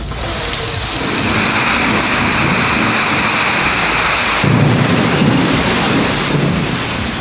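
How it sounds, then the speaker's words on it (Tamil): Rain falls steadily in the Nagercoil area with thunder rumbling through it, a continuous loud wash that swells midway. "நாகர்கோவில் மற்றும் அதன் சுற்றுவட்டார பகுதிகளில் மழை."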